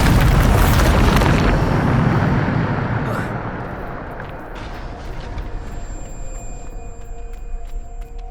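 A Bombarda spell explosion in the video game Hogwarts Legacy hits as a loud, booming blast, then rumbles and fades over several seconds into a lower sustained roar with faint tonal hums.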